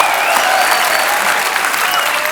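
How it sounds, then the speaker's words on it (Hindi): Loud, continuous applause from a studio audience on a television comedy show, a thick, steady roar of many hands clapping at once with faint cheering mixed in. "जोरदार तालियां के लिए"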